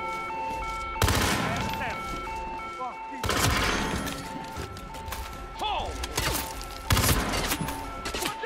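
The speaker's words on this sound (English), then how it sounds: "Wait, who's shooting at me now?" Gunfire erupts in Hitman: World of Assassination on the Isle of Sgail map, three loud bursts of rapid shots with crashing impacts, separated by quieter stretches of game ambience.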